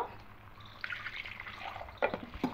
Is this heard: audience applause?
no